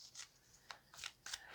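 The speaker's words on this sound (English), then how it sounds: "I do shuffle all decks off camera, but I also like to do it on camera so that you can see decks have been shuffled" Decks of cards shuffled close by make a series of soft, brisk riffling and snapping bursts. The sound is quiet, with no talking.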